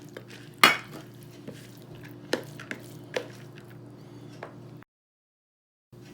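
Shredded cheese dropped into a bowl of keto cheeseburger pie mix with bacon crumbles, giving one soft thump and rustle, then a few light clinks and taps of utensils against the bowl, with no voices.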